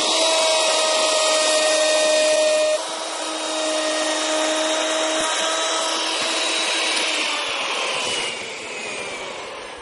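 A handheld plunge router spins at high speed and cuts into wood, making a loud, steady whine that runs for nearly ten seconds before its pitch drops as it winds down.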